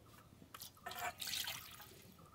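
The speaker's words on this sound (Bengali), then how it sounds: "একটু জল দেব," A little water poured into a pan of fish and salted potatoes being cooked with mustard oil, heard as quiet splashing bursts and trickles over faint kitchen background, with no talking.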